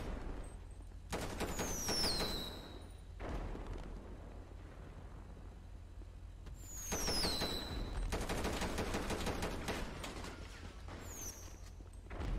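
An AR loaded with incendiary rounds firing in GTA V, long loud bursts of rapid automatic fire with a short gap between them and whistling, crackling effects on top.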